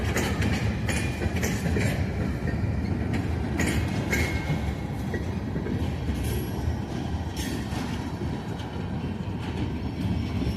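A long freight train rumbles steadily past, wheels clattering and occasionally squealing on the rails, continuous and fairly close with no talking.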